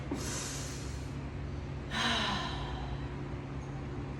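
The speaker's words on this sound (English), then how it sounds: "Breathing in through our nose, out through our mouth, 2 times." A person breathes in audibly through the nose and then exhales through the mouth during a yoga stretch, two soft airy breaths close to the microphone.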